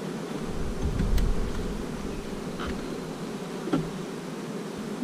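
Honeybees hum on hive frames in a steady, close buzzing mass, with a few faint knocks and handling sounds from the frames.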